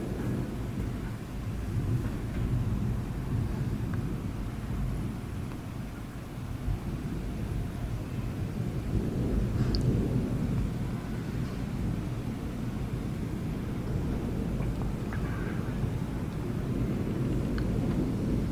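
A thunderstorm near Bordeaux rumbles in the distance, a long continuous low roll that swells and eases under a steady hiss of rain, with no one talking.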